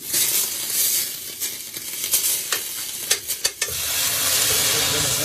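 A spoonful of butter sizzles in a pot for taco sauce, a steady bright frying hiss with a few stirring clinks and scrapes partway through.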